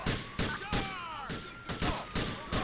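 Rapid gunfire in a modded GTA 4 game as a police officer is shot at: sharp bursts of shots repeating about three times a second, loud and close, with no talking.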